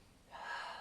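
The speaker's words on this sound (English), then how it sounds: "Lots of breathing." Audible breath during a yoga flow in crescent lunge with arms reaching overhead, a single soft exhalation swelling midway and holding, close and quiet with no talking.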